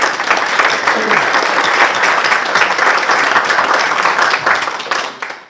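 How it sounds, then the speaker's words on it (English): Congregation in a church applauding after a proclamation is read, a loud, even wash of many hands clapping that holds steadily before tapering off at the close. "So a round of applause. for that."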